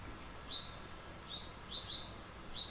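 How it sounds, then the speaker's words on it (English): Small birds, including a cardinal, calling in a yard: five faint, sharp chirps spaced irregularly over a quiet outdoor background with no one speaking. "Baby bird crew is back, and we got a mama cardinal caught up in the middle of it."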